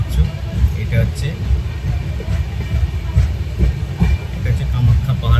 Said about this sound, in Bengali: গুয়াহাটি প্ল্যাটফর্মে ঢুকছে আমাদের ট্রেন।